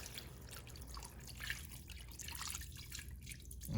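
Water poured into an Instant Pot over dry spaghetti, a steady close trickle and splash that runs for several seconds with a faint dripping texture, no talking.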